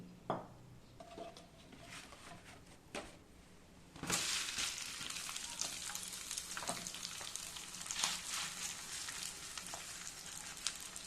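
Oil sizzling on a hot griddle stone while making rice adai from leftover rice, quiet at first with a few clinks, then a loud sudden hiss that carries on steadily close by.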